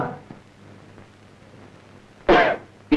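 A single sharp, harsh cough bursts out after quiet murmuring, followed by a short second cough.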